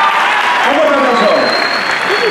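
An audience at a choreographed dance show claps steadily, a dense wash of applause that holds for the whole stretch while a voice speaks over it.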